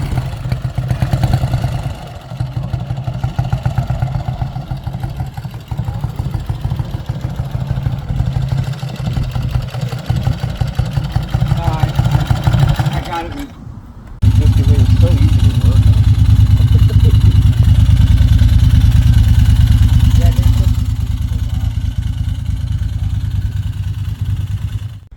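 Vintage motorcycles rumble at a shop bike night, including a small Honda Trail 90 engine idling and revving, loud and close with a steady drone that shifts to a deeper, heavier throb midway, with people talking in the background.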